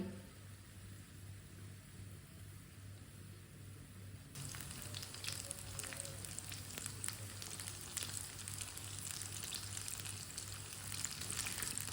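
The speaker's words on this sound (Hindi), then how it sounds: "ऑयल हमारा अच्छी तरह गर्म हो चुका है। इसी तरह थोड़ा थोड़ा पेस्ट लेंगे और डालते जाएंगे एक एक चम्मच भर के" Spoonfuls of batter paste frying in hot oil, a soft background hiss that jumps into a louder, dense crackling sizzle partway through and keeps going steadily, with no voices.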